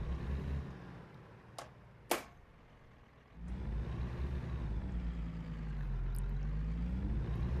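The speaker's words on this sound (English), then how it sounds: "At least the Peterbilts still sound good." Peterbilt truck engine in American Truck Simulator, a low steady diesel drone that drops briefly, then swells back with a rising rumble, a few sharp clicks and a short whistle-like tone near the start.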